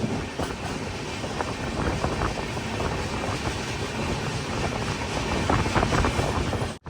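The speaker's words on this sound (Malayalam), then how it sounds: "ജാർഖണ്ഡിൽ നിന്നും കേരളത്തിലേക്കുള്ള ട്രെയിൻ." The Tatanagar–Ernakulam express, running from Jharkhand to Kerala, rolls past nearby as a loud, continuous rumble and clatter of wheels on rails that holds steady throughout.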